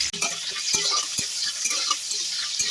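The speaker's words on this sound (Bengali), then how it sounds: "কড়াইতে রিফাইন অয়েল গরম করে নিয়েছি, এবার এর মধ্যে 1 মুঠো বাদাম দিয়ে ভেজে নিচ্ছি।" A handful of peanuts fries in hot refined oil in a wok, giving a steady bright sizzle broken by sharp ticks and clinks as they are stirred, close and fairly loud with no voices.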